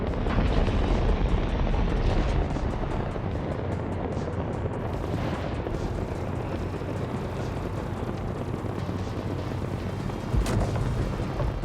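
Sustained loud barrage of heavy weapons fire and booming explosions from an Anvil F8C Lightning heavy fighter battling another ship in Star Citizen, with missiles and ballistic rounds rumbling continuously and a sharp blast near the end.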